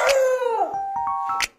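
A corgi howls close up, a long wavering tonal call that slides downward and then holds, ending in a short higher yelp.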